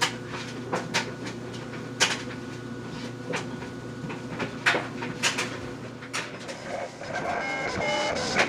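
A decal cutting machine making black stripes for a 2013 Ford F-150 hood runs with a steady mechanical hum, irregular clicks and clacks of its moving carriage, and a rising whine near the end.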